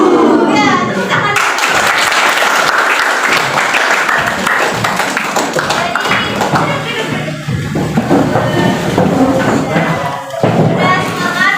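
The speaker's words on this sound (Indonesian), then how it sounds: "Ya, tepuk tangan." A class of schoolchildren clapping their hands together, a sustained clatter of claps mixed with kids' voices calling out and chattering throughout.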